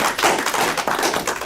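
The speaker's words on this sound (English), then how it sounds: "I want to give them a round of applause" Audience at a school district board meeting applauds retiring staff, a short burst of brisk, close hand clapping with no talk over it.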